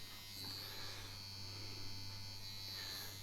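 Dragonhawk Mast Fold 2 Pro rotary tattoo machine on a 3.9 stroke running continuously with a steady low electric buzz and hum, close and fairly quiet, without talking.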